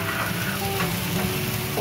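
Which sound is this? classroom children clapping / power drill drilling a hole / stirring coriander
stirring coriander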